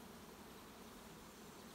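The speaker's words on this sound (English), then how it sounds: "There's a quite happy hum in the air." Honey bees in foraging flight near a canola field hum steadily as a dense, even drone, with no voices.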